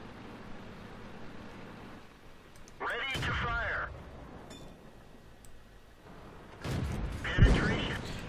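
A Type 4 Chi-To tank's main cannon fires twice on the Redshire map in World of Tanks, each shot a heavy booming blast with a ringing tail, separated by a quieter stretch with background rumble.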